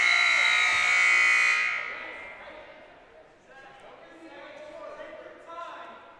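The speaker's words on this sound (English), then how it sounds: "as the buzzer will sound." A high-school wrestling period-end buzzer blares loudly for about a second and a half, then cuts off into crowd noise and a commentator talking.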